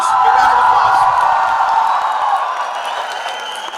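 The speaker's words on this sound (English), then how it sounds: "Big round of applause." A live audience welcomes Anil Kumble and Anju Bobby George with loud cheering and a roar of crowd noise that swells at first and then gradually fades.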